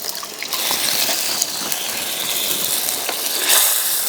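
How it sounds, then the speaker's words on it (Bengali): Water going into doi katla, a Bengali curd-based fish curry in a pan, sets off a busy close sizzle and bubbling, with scattered clinks and stirring knocks, rising briefly louder near the end; no voices. "আর একটু জল আমি দিয়ে দেব।"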